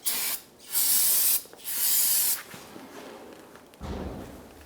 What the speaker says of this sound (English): I'm going to give this a quick spray down with some solvent